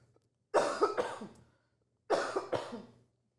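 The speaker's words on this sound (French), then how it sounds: "Je vais tousser avant" A person coughs in two separate bursts about a second and a half apart, each a pair of harsh, close coughs with no talking in between.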